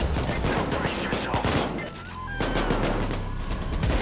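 Rapid automatic gunfire in the video game Payday 2, loud dense bursts of shots with a brief pause before the firing resumes.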